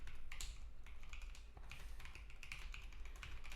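Fast typing on a computer keyboard while coding in Rust, a steady run of close, light key clicks with small pauses, no talking.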